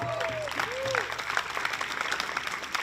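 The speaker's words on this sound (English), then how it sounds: "So let's give them another round of applause." Audience at a public library summer jazz concert clapping, with whoops and a voice rising over the applause, moderately loud throughout.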